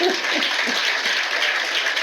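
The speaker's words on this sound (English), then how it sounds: "give the Comrade Leader another hand clap for me, please" Audience applause for the Comrade Leader at a PNP town hall meeting, a brief steady wash of many hands clapping at a moderate distance, continuous and even.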